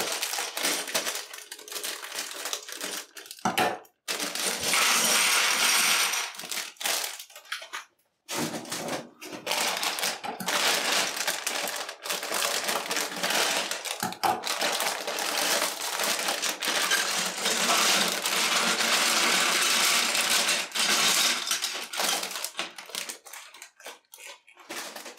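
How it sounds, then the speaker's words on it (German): Small plastic bags of LEGO Titanic pieces are torn open and handled, giving loud close crinkling, crackling and rattling of loose bricks in irregular bursts with a few brief pauses. "Werde ich jetzt alle beiden öffnen"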